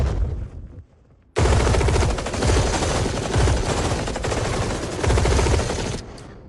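Sustained automatic gunfire bursts out in a film battle scene after a short lull, loud, dense and continuous for several seconds before cutting off.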